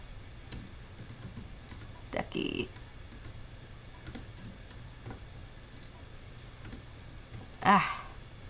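Keys clatter on a computer keyboard in scattered bursts and single clicks, faint and close, with a louder clack near the end and a low steady hum beneath.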